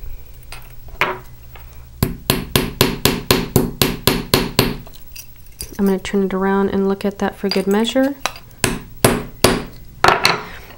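Metal hammer strikes on a rivet joining metal bracelet discs, loud sharp taps in rapid repeated bursts with a pause midway, a person talking between and over the blows.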